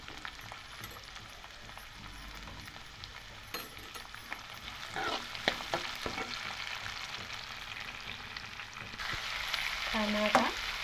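Onions and green chillies frying in a pan give a steady close sizzle with occasional stirring scrapes, growing busier toward the end, with no talking.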